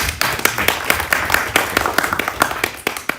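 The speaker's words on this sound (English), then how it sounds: "Another round of applause." Applause from a conference audience, a dense round of clapping with sharp individual claps standing out, steady and fairly close throughout.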